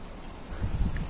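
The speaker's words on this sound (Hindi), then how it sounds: "इतनी तेज हवा चल रही है, पूरे के पूरे पेड़ झूल रहे हैं" Strong wind blows through a deep forest, with a steady roar of gusts and rustling trees that grows heavier and rumbling toward the end, buffeting close to the microphone.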